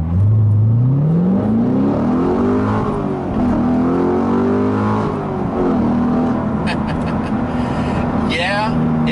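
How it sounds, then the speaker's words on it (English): A manual C7 Corvette Z51 on Michelin Pilot 4S tires accelerates hard, heard from the cabin: the engine drone climbs in pitch, drops with each gear change, then pulls again. It stays loud and steady throughout. "So let's do an acceleration here. Of course, with the manual C7."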